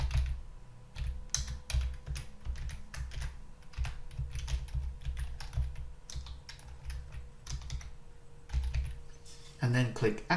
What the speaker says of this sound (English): So I'm just going to go ahead and type in my activation code